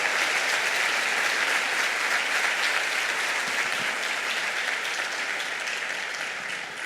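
A church congregation applauds in a dense, continuous wash of clapping that stays loud throughout and fades slightly near the end.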